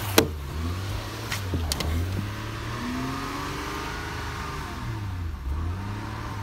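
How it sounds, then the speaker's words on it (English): Power windows on a 2001 Honda Accord run up and down as a rising and falling electric motor whine, heard close over a rough idling engine, with a couple of sharp clicks near the start. "Both windows go up and down."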